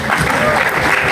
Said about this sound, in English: Another big massive round of applause